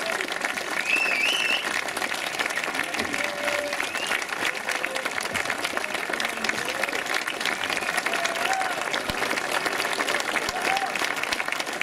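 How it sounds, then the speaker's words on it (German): Audience applause for a Düsseldorf band at a Django Reinhardt jazz festival in Hildesheim, steady dense clapping sustained throughout with crowd noise and scattered voices mixed in. "Einen herzlichen Applaus für die Düsseldorfer Band."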